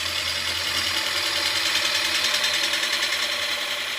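Wood lathe spinning steadily while a gouge shapes an ogee profile, a continuous close, bright hissing scrape with a faint motor hum, no talk.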